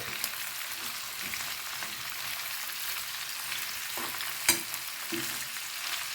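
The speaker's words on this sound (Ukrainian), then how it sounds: "гарненько перемішаю і посмажу. щоб був гарний аромат." Meat for plov fries in a pan with a steady, close sizzle, broken by occasional scraping stirs and one sharp clack of a utensil against the pan, with no talking.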